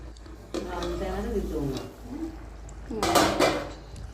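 A lid is set back on a cooking pot of tomato chutney with tamarind and turmeric over a high flame, a short metallic clatter near the end while someone talks throughout.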